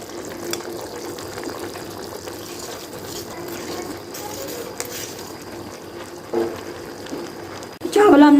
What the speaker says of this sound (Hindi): पानी का बॉयल आ चुका है, तो अभी इसमें मैं डाल देती हूँ ये चावल।